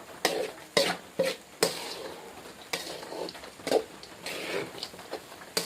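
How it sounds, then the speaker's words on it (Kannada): Poha with peanuts being stirred in a hot pan on a gas stove, with a run of scraping, rustling strokes and sharp spoon knocks against the pan, close and alone with no talk. "ಇವಾಗ ಗ್ಯಾಸ್ ಒಂದು ಸ್ವಲ್ಪ ಓಟಿಟ್ಟು ಚೆಂದಾಗಿ ತಿರುಗಾಡ್ಕೊತೀನಿ ರೀ ಇದಕ್ಕೆ ನಾನು"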